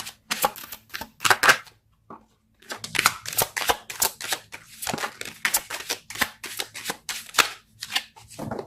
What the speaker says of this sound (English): Let's pull a card for your mental space.